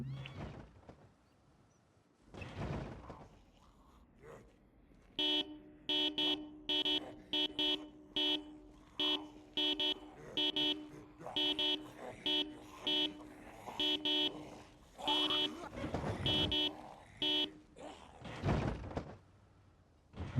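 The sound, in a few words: car horn honking in a video game (Project Zomboid)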